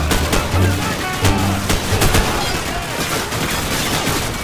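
Gunfire in the shooter game Call of Duty 4: Modern Warfare, loud rapid bursts of shots cracking in an irregular rhythm over a rumbling backdrop, a few sharp reports standing out.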